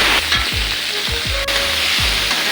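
Oil sizzles steadily in a kadai, a loud continuous hiss broken by rhythmic low thumps of stirring, with no talking.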